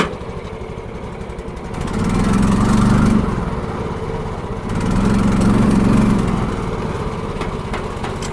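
A tracked dumper's engine runs steadily nearby, swelling twice into louder revving surges as throttle is applied before settling back to a rough idle.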